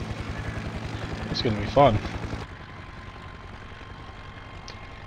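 An Airbus helicopter's engine runs as a steady low mechanical drone with a rhythmic pulse under a brief spoken line, then drops to a quieter, smoother hum for the rest of the clip.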